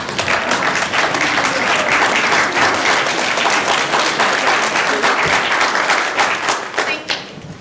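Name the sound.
audience applause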